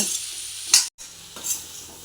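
Okra frying and being stirred in a pan, with a steady sizzle, a couple of louder scraping stirs and a brief pause between them; no one speaks.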